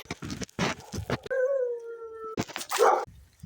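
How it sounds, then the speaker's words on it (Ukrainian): A dog lets out a sustained mournful howl between bursts of sharp barking, close by and fairly loud. "тепер я пішла біля собаки і вона дуже в мене гавка"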